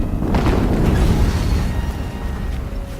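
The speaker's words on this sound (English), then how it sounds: "Another explosion." An explosion in the video game Horizon Zero Dawn, a loud, deep boom that swells and then rumbles and fades over a few seconds, with no talk.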